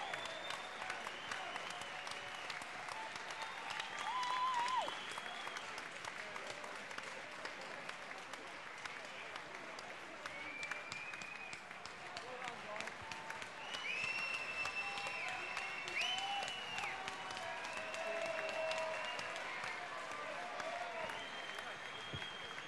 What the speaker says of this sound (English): let's give these boys a round of applause.